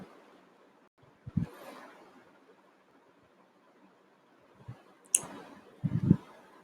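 Computer mouse clicking on an on-screen arrow in school admin software, a few sharp isolated clicks spaced seconds apart against quiet room noise.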